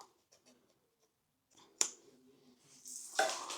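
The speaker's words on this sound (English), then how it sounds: "I'm just gonna cut it all the way down to the other side of the folded material" Scissors snipping through folded fabric, a few crisp close cuts and a sharp snip followed by a louder rustling slice near the end, with no talk.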